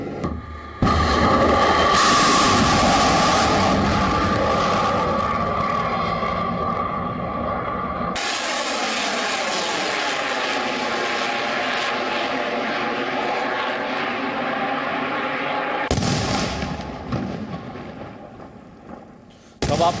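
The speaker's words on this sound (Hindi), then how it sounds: "जिसमें इस्कंदर मिसाइल का इस्तेमाल किया गया" An Iskander missile launches with a loud roaring rush of rocket exhaust that builds, holds steady and slowly fades, then cuts to a second burst of roar near the end.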